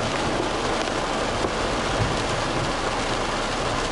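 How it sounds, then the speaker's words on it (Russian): Heavy rain drums steadily on a truck in the United States, a dense, continuous patter with no talking over it. "дождик. Пожалуйста, я тебя прошу."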